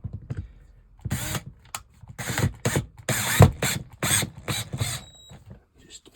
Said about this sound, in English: Now screw the screws back down again.